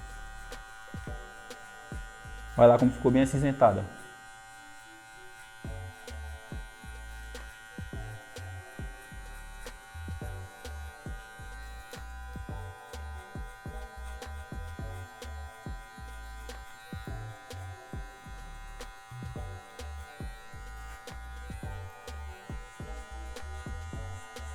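Electric hair clippers trimming a fade haircut, a low steady buzzing hum pulsing in short passes throughout, with a voice speaking briefly near the start.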